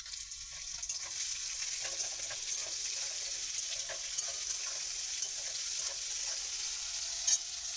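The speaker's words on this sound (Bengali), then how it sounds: "এগুলো একটু হালকা ভেজে নেব।" Carrots and beans with slit green chillies, lightly salted, frying in a pan: a steady soft sizzle with faint stirring scrapes throughout, fairly quiet and alone.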